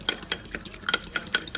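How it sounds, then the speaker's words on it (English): A fork whisks yeast into warm water for cinnamon rolls, giving a series of quick, light metallic clinks and scrapes against the bowl in an irregular rhythm, close and fairly quiet with no talking. "we're gonna whisk it,"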